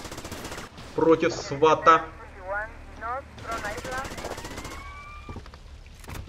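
Rapid bursts of Uzi fire in GTA Vice City crackle in several quick volleys, mixed with other game effects and someone talking over the action.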